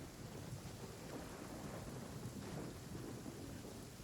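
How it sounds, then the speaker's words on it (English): Rain in the Genshin Impact video game, a dense low rumbling wash of heavy downpour with thunder-like roll, steady and moderately quiet throughout with no speech. "I can only assume that the rain is really loud."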